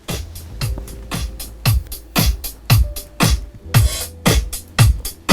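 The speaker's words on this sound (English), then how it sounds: "This song started with a drum sample, which sounds like this." A drum sample opens a song with a steady, punchy beat of kicks and snappy hits, roughly two per second, looping with a slightly busier burst near the end. It plays loud and close with no voices.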